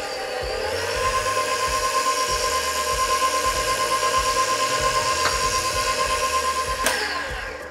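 An electric stand mixer beats devil's food cake batter while coffee is poured in, a steady close motor whine with a rhythmic churning pulse, running continuously with no talk.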